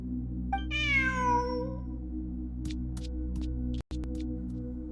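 A cat meows in Genshin Impact, one clear drawn-out meow over a steady low game hum, followed by a few soft clicks and a brief dropout near the end.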